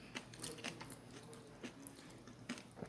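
Close, crisp crunching bites and chewing of small fried mullet, several sharp crackles scattered over a few seconds, no talking.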